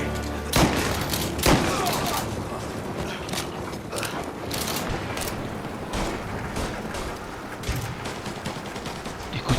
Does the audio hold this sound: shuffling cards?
no